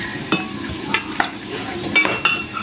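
Dried mushroom and onion are stirred in a pan while cooking adobong tilapia, a soft sizzle under repeated close scraping strokes of a utensil against the pan.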